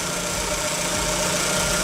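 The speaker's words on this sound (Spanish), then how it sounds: "en este momento tenemos el motor prendido" A car engine runs at idle with the motor on during a fuel pressure check, giving a steady, even hum with a faint rhythmic pulse, close and continuous, with no speech.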